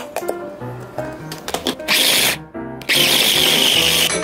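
A kitchen blender whirs loudly through pork and spinach being ground into homemade dog food, with two sustained bursts of motor noise after a few short pulses and clatter.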